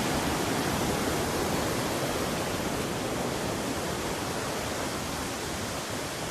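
A forest waterfall on a stream pours in a continuous, even roar of rushing water, steady and fairly close, with no talking.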